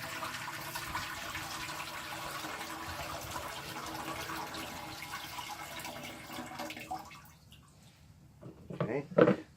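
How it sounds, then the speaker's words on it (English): Soaking water from wood chips is dumped into a pan for smoking ribs, a continuous splashing pour that runs several seconds before thinning out, followed by a few sharper clunks and splashes at the end. "So what I'm going to do is dump the water that these are soaking in into the pan."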